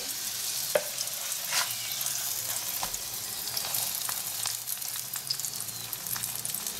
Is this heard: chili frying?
yes